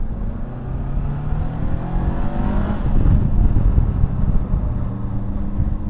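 A Kove 500 motorcycle climbs a steep road in second gear, its engine a steady, loud, close drone that swells slightly midway, with no talk.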